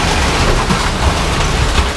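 Heavy rain pouring down outdoors during trash picking and scrapping, a steady dense broadband hiss with low rumbles throughout, loud and continuous with no voices.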